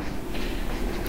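A London Underground train in a simulator game rumbles steadily and close, a continuous low drone of wheels and carriage noise with no break.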